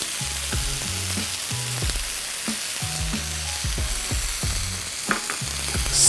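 Apples cook in a hot pan with brown sugar, giving a constant close sizzle under a rhythm of spatula scrapes and pan knocks, with no one talking.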